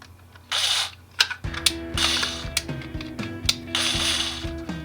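A screw being started into a holster clip by hand tool gives rapid ratcheting clicks in several bursts, close and fairly loud, with short pauses between turns and no talking.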